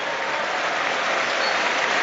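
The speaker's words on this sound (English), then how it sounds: "to warm applause" Warm applause from a stadium crowd at a Premier League kickoff between Manchester United and Liverpool, a steady, dense wash of distant clapping that holds evenly throughout with no talk over it.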